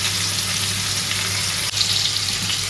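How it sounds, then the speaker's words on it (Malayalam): Chicken for mandi fries on high flame with a loud, dense, continuous sizzle close by, steady for the whole stretch apart from one brief dip, and no voices. "ജസ്റ്റ് ഒന്ന് ഹൈ ഫ്ലെയിമിലിട്ടിട്ട് ജസ്റ്റ് ഒന്ന് വറുത്തിട്ട്"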